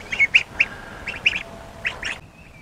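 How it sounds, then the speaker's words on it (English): A baby duck at a freshly filled water trough gives a series of short, bright quacks and peeps in quick bursts, fairly close, with no talking. "Baby duck approved."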